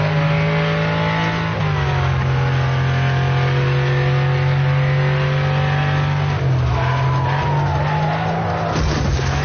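Race car engine in the game Wreckfest revving hard and steady near redline, with a gear shift and a brief drop in pitch before climbing again, tires squealing as it skids through turns.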